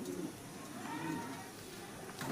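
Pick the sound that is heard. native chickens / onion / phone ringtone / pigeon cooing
pigeon cooing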